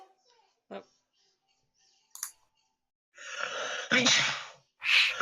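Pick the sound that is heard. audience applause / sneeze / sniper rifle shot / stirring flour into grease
sneeze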